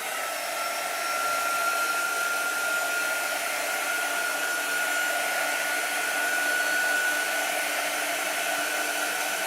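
A hair dryer blows steadily on chalk paint over a snowflake craft, a constant loud whir with a high whine that never lets up for the whole stretch, with no talking.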